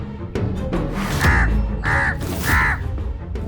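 A crow caws three times in a steady rhythm, loud and close, each harsh call clearly separated, over a dense outdoor background with no talking.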